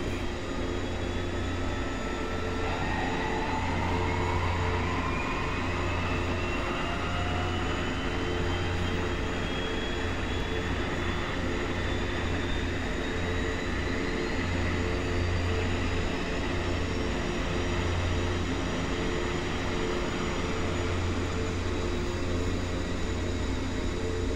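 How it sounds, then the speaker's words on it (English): A de Havilland Twin Otter's left engine spins up in the X-Plane 11 flight simulator, a steady loud turbine drone with rising whine tones over a continuous low hum, no talking. "we'll flip over, start the left engine"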